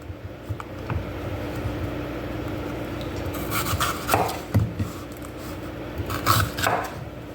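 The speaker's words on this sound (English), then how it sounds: "I'm taking some peppers and I'm just going to cut them in 4s." A knife slicing peppers into quarters on a cutting board gives a few soft, scattered cuts, louder and more clustered in the second half over a steady low background hum.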